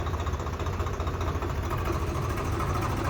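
A tractor engine, either a Swaraj 855 or an Arjan Novo, idles nearby with a low, even, throbbing rumble that holds loud and steady throughout, with no one speaking.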